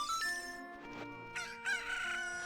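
A cuckoo, the chicken-like fowl of the video game Zelda Ocarina of Time, crows a cock-a-doodle-doo over steady game music, clear and prominent for a couple of seconds.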